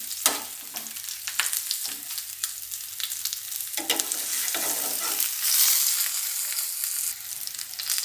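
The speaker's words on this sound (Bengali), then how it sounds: "এবার মশলাটা এভাবে আমি একটু দু তিন সেকেন্ড কষিয়ে নেব" Spice paste stir-fried in a pan for a Bengali cauliflower roast, a steady oily sizzle broken by repeated scraping strokes of a spatula, close and continuous, with no talking.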